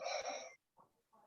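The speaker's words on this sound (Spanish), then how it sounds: "Creo que hay uno roncando" A person snoring near an open microphone during an online lecture class: one long, raspy, wheezing intake, then two softer, breathy snorts after a short pause, close and fairly quiet, with no talking.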